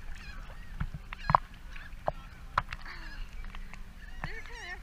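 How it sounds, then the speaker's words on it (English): Birds, geese by their calls, honk repeatedly and irregularly while attacking a swimmer in Caribbean waters off St Thomas, US Virgin Islands, with loud close calls standing out over quieter background sound. "I got you getting attacked by the birds"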